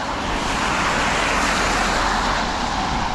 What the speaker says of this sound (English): That car just went by and splashed me